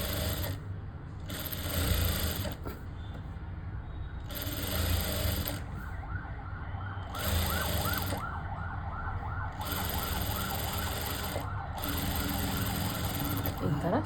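An electric sewing machine stitches a plain blouse in repeated loud bursts of rapid whirring, separated by short pauses, with background talk.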